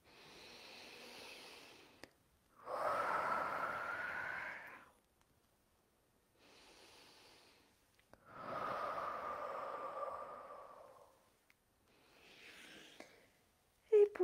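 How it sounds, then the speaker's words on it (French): Three deep, slow breaths taken while stretching during a guided relaxation, close and quiet, each one a long airy inhale followed by a longer, heavier exhale. "vous allez prendre 3 belles respirations tout en ramenant votre corps ici et maintenant et en vous étirant librement"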